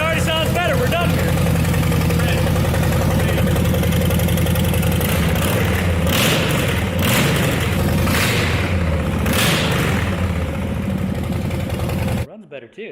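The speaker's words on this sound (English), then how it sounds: "shall we do a mandatory no muffler fire up?" A car engine with its muffler removed fires up and idles loud and raw, a steady, throaty drone that holds for about twelve seconds, with voices talking over it, before cutting off abruptly at the end.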